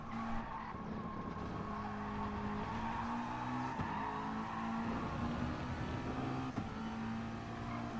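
A race car in Gran Turismo Sport corners and slides, its engine droning steadily while the tires squeal and skid, loud and continuous for several seconds, with no speech.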